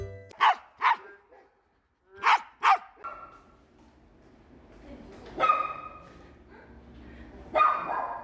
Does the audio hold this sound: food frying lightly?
no